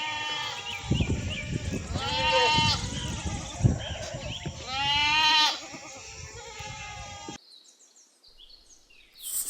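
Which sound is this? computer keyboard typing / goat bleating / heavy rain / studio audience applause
goat bleating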